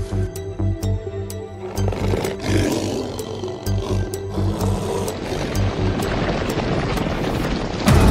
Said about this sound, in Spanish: el rugido grave de los depredadores